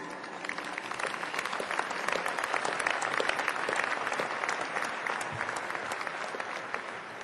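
A graduation ceremony audience applauds steadily to welcome a speaker to the podium, dense sustained clapping filling the hall from start to finish with a faint murmur of crowd beneath.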